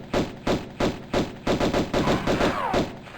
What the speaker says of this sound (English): It's hard to keep them in the scope in such a way that I can feasibly actually shoot them.